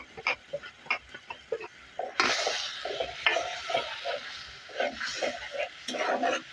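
Spice paste of green chilli, turmeric, chilli powder, salt and cumin stir-fried in a pan for a spiny eel curry, with scraping stirs and a steady sizzle, a voice talking over it.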